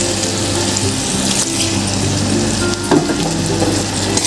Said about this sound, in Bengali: মশলাগুলোকে একটু জল দিয়ে দেবো এর মধ্যে।